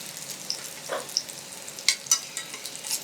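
Paneer thecha cutlet crisping in hot oil in a pan, a steady soft sizzle with scattered sharp pops and crackles, fairly close and without any voices.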